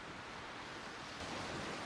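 Typhoon No. 14 drives waves crashing over coastal National Route 55 in Muroto, Kochi; a steady, dense roar of surf and wind that swells slightly toward the end.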